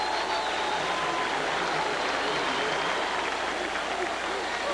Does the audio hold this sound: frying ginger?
no